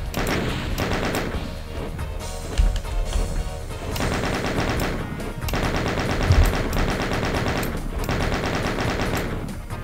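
Rapid automatic gunfire in the video game Doom (Sigil 2), a steady chattering stream of shots in sustained bursts with a few heavier thumps, loud and continuous.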